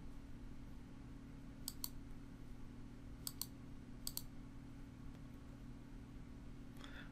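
A computer mouse clicking through a color hue spectrum in a website theme editor: a few crisp, close clicks, mostly in quick pairs, over a steady low hum.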